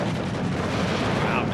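Mortar rounds landing on a Pak 40 anti-tank gun in the Steel Division 2 wargame, heard as dense, continuous rumbling blast noise that stays loud throughout with no clear separate impacts.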